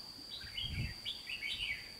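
A red-whiskered bulbul sings a series of short bright whistled phrases, repeating every half second or so at moderate distance over a steady high background hum.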